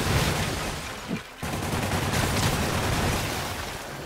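Sustained rapid gunfire from an enemy in the Marvel's Spider-Man video game roars in dense, continuous bursts, with a short gap just after the first second before the loud shooting resumes.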